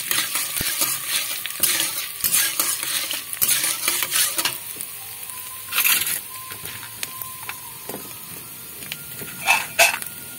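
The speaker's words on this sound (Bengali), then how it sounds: "এইভাবে গ্যাসটাকে কমিয়ে দিয়ে আস্তে আস্তে করে ডালটাকে আমি ভেজে নেব।" Lentils (dal) frying slowly over low heat in a pan with chopped ginger added: a soft steady sizzle runs throughout, broken by repeated scraping stirs and a few brief metal clinks.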